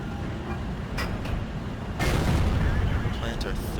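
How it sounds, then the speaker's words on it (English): An SU-122-44 tank destroyer's cannon fires in World of Tanks, with a lighter thump first and then one heavy, close boom whose rumble lingers over steady battle noise. "Plant our third shot into him."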